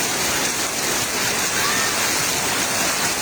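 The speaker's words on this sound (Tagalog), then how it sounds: "Ay, ang lakas ng ulan!" Heavy rain pours down during a flood, a dense, loud, unbroken roar of water that fills the whole scene from start to finish.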